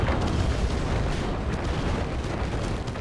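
Cannon fire in a competitive real-time strategy match, rolling booming blasts layered into a dense, continuous low rumble of battle explosions, steady and loud throughout with no clear speech.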